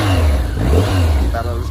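BMW K1100 RS cafe racer motorcycle on its original exhaust, revved cold right after a decibel test, giving a loud, steady, close engine drone that holds throughout.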